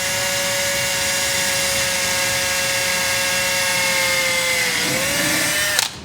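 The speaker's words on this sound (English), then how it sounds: "all you want to do is drill the head off of this rivet" Drill grinding steadily through the head of a rivet on a Sako extractor, a loud continuous high whine that dips in pitch near the end before cutting off abruptly.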